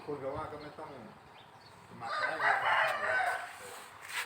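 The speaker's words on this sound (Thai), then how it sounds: "บรรยากาศดีมากเสียงไก่ขันยามเช้านะคะ" A rooster crows in the distance on a farm in the early morning, its drawn-out call rising over faint outdoor background noise, followed by a louder burst of mixed rustling sound.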